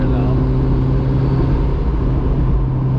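A first-generation Mazda Miata fitted with a turbo kit is heard from inside the car as a loud, constant low engine drone with a steady hum and no clear revving changes.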